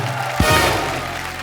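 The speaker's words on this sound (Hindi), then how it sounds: "जोरदार तालियां एक बार ऋषि सर के लिए।" Studio audience at a TV comedy show bursts into applause after a sharp onset, the clapping and crowd noise swelling briefly and then carrying on steadily.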